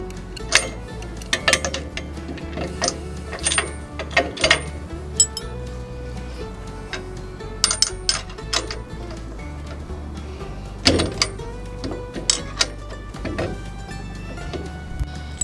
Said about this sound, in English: you're gonna need a couple wrenches to do this install